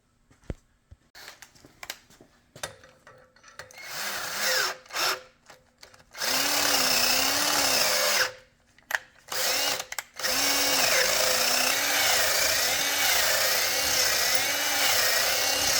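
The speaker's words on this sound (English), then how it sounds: "So I got to run a drill bit through." A power drill runs a bit through a spot on metal that shrank after welding, in short stuttering pulls at first, then a long steady whine with a wavering pitch under load.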